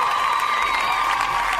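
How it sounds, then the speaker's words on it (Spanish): Crowd cheering and applause rise in a steady, dense wash at a Spanish-language music program, with shouts and whoops mixed throughout the whole short stretch. "Un fuerte aplauso para ella."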